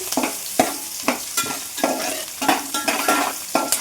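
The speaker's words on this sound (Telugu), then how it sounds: "ఈ ఆనియన్ పచ్చిమిర్చి కూడా బాగా వేగాలండి" Chopped onion and green chilies sizzle in a hot pan for fried rice, with a steady frying hiss broken by regular scraping strokes of a spatula, close and fairly loud.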